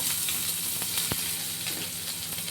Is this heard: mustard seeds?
yes